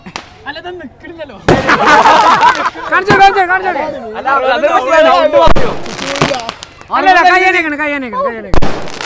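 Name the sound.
firecrackers bursting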